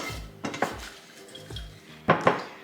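Metal baking pan set down on a kitchen surface while making Biscoff dark chocolate chip cookies, giving a few sharp clanks and clatters, with two louder knocks near the end and no talking.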